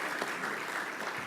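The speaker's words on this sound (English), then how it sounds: "Please give a round of applause to all our guests once again." Audience at a community forum gives a short round of applause, a dense, even wash of clapping heard alone at moderate level.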